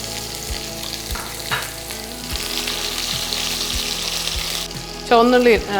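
Mustard seeds and shallots fry in hot coconut oil for a Trivandrum-style fish curry, with sharp scattered pops over a constant sizzle, background music underneath, and a brief voice-like sound at the end.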